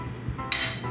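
Wine glasses filled with Pinot Grigio touch in a toast, giving one bright, close clink that rings briefly over a quiet room.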